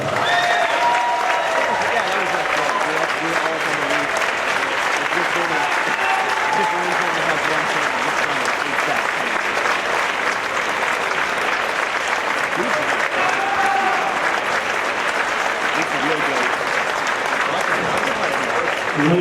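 An audience fills a hall with loud, continuous applause throughout a high school athletic hall of fame induction ceremony, clapping steadily and densely with scattered cheers, alongside a voice speaking over the crowd.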